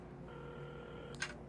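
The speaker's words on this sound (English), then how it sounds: "Carmen had started dialing the phone" A telephone in the game Assemble with Care gives a steady, faint dial tone, then a single short key press, quiet and close.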